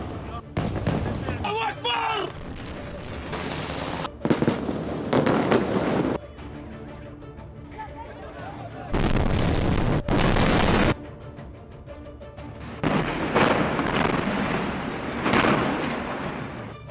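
Aftermath of an Israeli airstrike on Beirut: repeated loud booms and blasts in clustered bursts over a low rumbling background, with voices faintly present between them.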